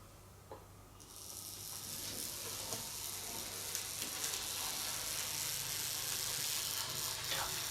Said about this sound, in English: That motor sounds horrible, and it's not its fault.